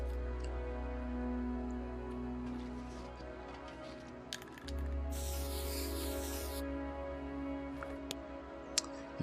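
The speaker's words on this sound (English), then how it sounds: "Let's try our spray can again." Spray can used in the video game The Long Dark: a single broadband hiss of several seconds over a steady low wind drone, moderately close.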